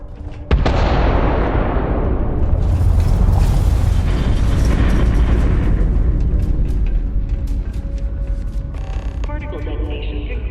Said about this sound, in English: Particle detonation concluded.